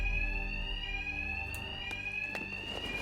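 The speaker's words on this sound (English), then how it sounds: "Two-Face's thugs won't hear me over the alarm." Alarm ringing in a Batman video game, a steady high electronic tone held throughout with a few brief clanks and impacts cutting in over it, fairly loud and without speech.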